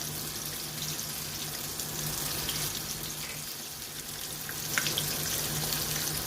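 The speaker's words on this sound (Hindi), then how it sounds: "अब हम इसमें साथ साथ अपनी फ़िश डालते जाएंगे" Fish fillets frying in hot oil, a steady, moderately loud broadband sizzle that holds throughout with a few brief crackles and pops near the end.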